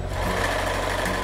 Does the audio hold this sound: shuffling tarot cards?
no